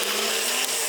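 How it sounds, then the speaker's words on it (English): Blender whirring steadily as it purees a frozen banana with water, a loud, continuous motor roar with no talk over it. "we're gonna add about 1 banana to the blender"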